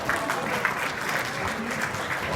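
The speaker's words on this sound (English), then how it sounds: "Give another round of applause" Sustained applause from an audience at an award ceremony honoring influential Asian Americans in Georgia, steady and dense throughout, moderately loud with a faint voice beneath.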